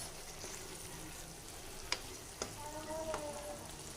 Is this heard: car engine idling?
no